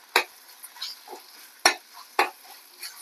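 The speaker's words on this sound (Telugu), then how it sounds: "అల్లం వెల్లుల్లిపాయ పచ్చి వాసన పోయే వరకు ఇలా వేయించుకోవాలి." Ginger garlic paste frying with onions in a pan, a soft sizzle broken by three sharp scraping stirs of a spoon against the pan, with no talk.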